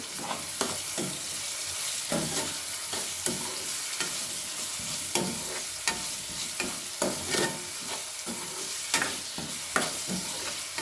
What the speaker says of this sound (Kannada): ಅದಾದಮೇಲೆ ಇವಾಗ ಕ್ಯಾಪ್ಸಿಕಮ್ ಮಾಡಿಟ್ಕೊಂಡಿದ್ವಲ್ಲ, ಅದನ್ನು ಹಾಕ್ಕೊಳ್ಳೋಣ. ಹಾಕ್ಕೊಂಡು ಮಿಕ್ಸ್ ಮಾಡೋಣ.